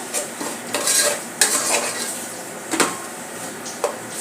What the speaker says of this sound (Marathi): एक दालचिनीचा तुकडा पाच सहा लवंग आणि छोटी वेलची दोन अशा प्रकारे आता हे सर्व मिक्स करून घेऊया